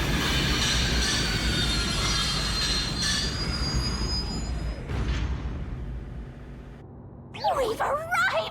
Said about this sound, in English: We are approaching Kanai Ward. Please watch your step while exiting the train.